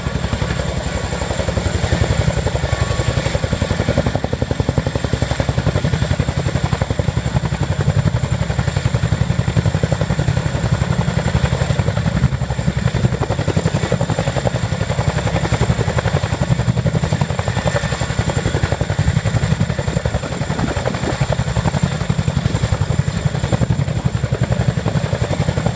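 A Royal Air Force Boeing H-47 Chinook helicopter at the ILA Berlin air show gives a continuous heavy rotor thrum and turbine roar, loud and constant throughout.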